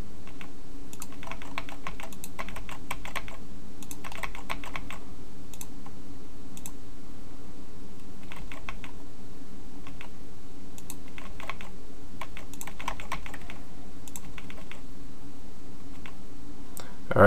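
A computer keyboard is typed on in bursts of rapid clicking keystrokes with short pauses between, close and clear over a steady low room hum while HTML5 code is indented.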